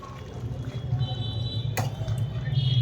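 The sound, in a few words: water poured from the marinade bowl into the cooking chicken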